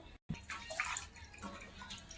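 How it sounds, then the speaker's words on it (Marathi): Water poured into a pot of washed plain ration rice for chicken pulao, a steady splashing, trickling pour at close range with no talk. "आणि आता याच्यात पाणी टाकू"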